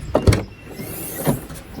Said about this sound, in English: So we open up the hatch,